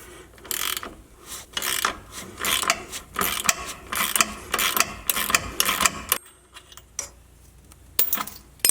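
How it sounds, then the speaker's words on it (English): A ratchet wrench clicks in quick repeated strokes as it runs a bolt on a Jeep JLU during a Clayton Offroad 2.5-inch lift kit install, loud and close, with about a dozen bursts before stopping and a final click near the end. "I'm just going to go ahead and get my ratchet on here."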